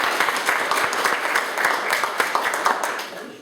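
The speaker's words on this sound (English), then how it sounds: "A round of applause again." An audience at a forum gives a round of applause, dense steady clapping from many hands, fairly loud and continuous throughout.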